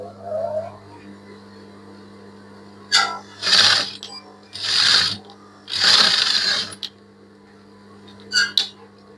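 A sewing machine stitches a kids' ball gown, whirring in three fairly loud runs of several seconds each over a steady low hum, followed by a short final burst.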